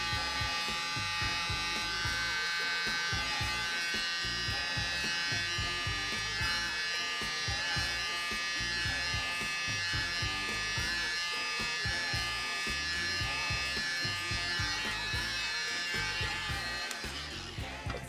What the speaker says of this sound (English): Grab a little mini blower.